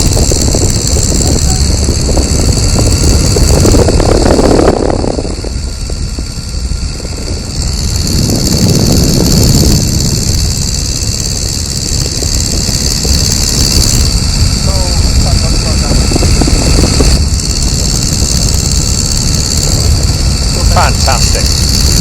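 Tiger Moth biplane's engine roaring at full power through takeoff and climb, a loud steady drone with propeller buzz filling the whole stretch while someone talks over it.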